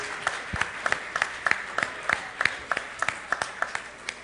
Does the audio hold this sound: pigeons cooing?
no